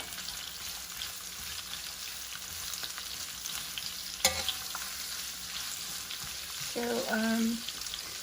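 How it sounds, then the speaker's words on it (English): Two large onions sauté in a pan for Filipino beef steak (bistek), giving a quiet, steady sizzle broken by one sharp clink of a utensil and a brief scraping stir near the end. "So I'll saute the onions"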